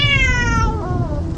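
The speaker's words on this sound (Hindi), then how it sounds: "तभी अचानक एक बहुत बड़ी बिल्ली उसके कार के सामने आकर खड़ी हो गई।" A large cat lets out a single loud, close meow, drawn out and falling in pitch over about a second, with no other sounds around it.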